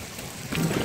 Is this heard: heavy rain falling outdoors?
yes